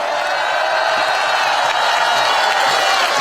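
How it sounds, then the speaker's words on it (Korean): A large outdoor crowd at a Korean presidential campaign rally in Bucheon roars and cheers with mixed clapping and shouts, a loud continuous wash of noise with no clear pauses. "여러분, 다시 한번 큰 박수 한번 보내주시기 바랍니다."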